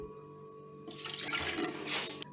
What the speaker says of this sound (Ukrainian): Вливаємо 100 грам оцту.